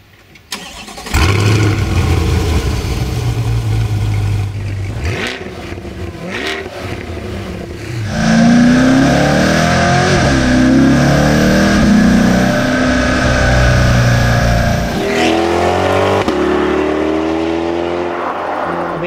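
A 2022 right-hand-drive Corvette C8 V8 fires up with a sharp bark, settles into a rumbling idle, then revs hard in rising sweeps with crackling tones, loud and close with no talk.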